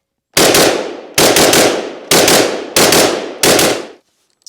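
Five loud, evenly spaced shots from a Microtech MSAR rifle fired at steel targets 75 yards away, each sharp crack trailing into a short ringing decay before the next, then silence.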